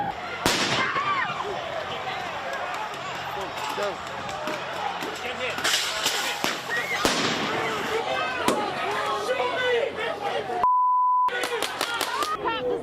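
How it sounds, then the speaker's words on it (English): Fireworks thrown by people in a street during unrest, sharp loud bangs at irregular intervals over crowd noise and voices, with a brief electronic beep near the end. "There are people throwing fireworks and who knows what else."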